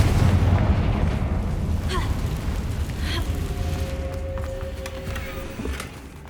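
A loud, deep Confringo spell blast from the Hogwarts Legacy video game rumbles from the very start and slowly fades over several seconds, with a few faint ringing tones trailing in the tail.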